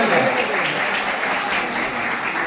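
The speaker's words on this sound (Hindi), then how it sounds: "जोरदार तालियों से" An audience at a college general-knowledge competition prize ceremony claps steadily, a moderately loud wash of applause that holds evenly without pause.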